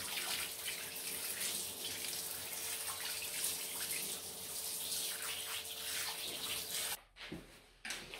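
Coolant lubrication liquid sprays and splashes steadily onto a CNC milling machine, a continuous watery hiss like a running tap that cuts off abruptly near the end, followed by a couple of brief spurts.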